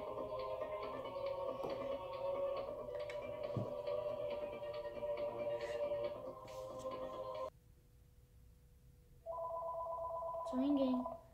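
A telephone rings in a steady electronic trill, pauses in near silence, then rings again, with faint voices murmuring underneath.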